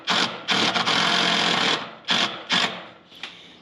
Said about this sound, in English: Countersink your holes.